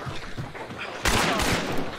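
Gunfire in the video game Hunt: Showdown arrives as a sudden loud burst of shots midway through, after a stretch of quieter game noise, close and harsh with no talking.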